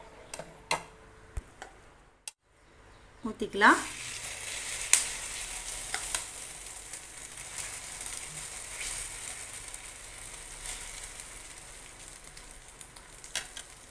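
Carrot and egg omelette batter is poured onto a hot dosa griddle after a few quiet taps, bursting into a sharp sizzle that settles into a steady hiss with occasional light ticks.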